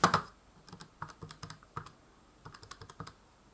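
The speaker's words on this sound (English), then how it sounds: "we can type it into our calculator" Quick, close keypresses on a calculator keypad as numbers are entered for a maths bounds problem, a sharp burst of clicks followed by separate taps in short runs, with no one talking.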